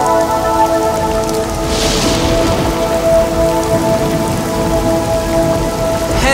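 Heavy storm rain at sea used as a story sound effect: a dense, steady downpour hisses throughout, with a low rumble beneath it.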